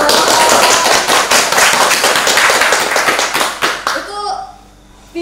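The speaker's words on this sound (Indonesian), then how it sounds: "Tepuk tangan dulu dong." An audience at a talk show claps hands in a loud, dense burst that fades over a few seconds, with some chatter and a voice under the end.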